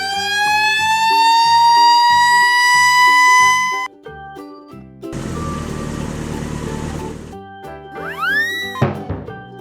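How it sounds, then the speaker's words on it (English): A red fire truck's siren in a children's cartoon rises in a long, loud, steady wail over bouncy background music, followed by a burst of noisy clatter and a couple of springy rising boings. "Red fire truck."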